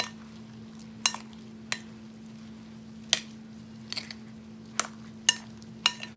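A spoon works ricotta cheese in a bowl, giving about nine sharp, separate clinks and scrapes against the dish over a steady low hum, with no talking.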